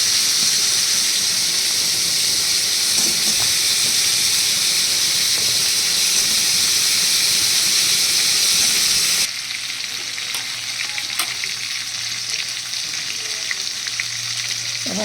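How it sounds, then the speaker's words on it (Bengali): Pointed gourd and potatoes frying in a pan with salt and turmeric, a steady close sizzle running throughout, then easing to a quieter, softer frying hiss partway through. "সব পটলগুলো এবার ভাজতে দিয়ে দেবো"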